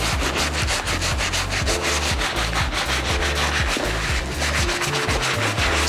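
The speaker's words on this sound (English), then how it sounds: "Scrubbing the midsoles one more time" Brisk, rhythmic brush scrubbing on the midsoles of a worn pair of Nike Air Max 95 sneakers, loud and close, with rapid back-and-forth strokes continuing without pause.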